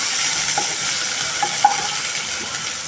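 Sliced onion and cinnamon fry in hot oil, a loud, steady close sizzle with a few light stirring scrapes and one small clink of the spoon, no talking.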